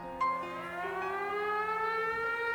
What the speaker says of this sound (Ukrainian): Перші сирени